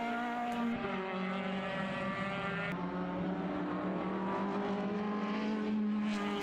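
Formula race cars at Mondello circuit in an Irish Formula BOSS race roar past on track, a continuous loud engine drone with steady high harmonics and a slight pitch shift as one car gives way to another.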